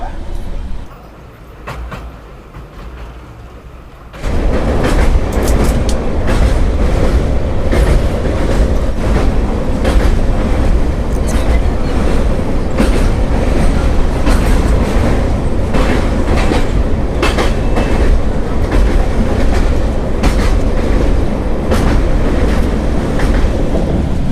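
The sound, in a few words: 22202 Puri-Sealdah Duronto Express train running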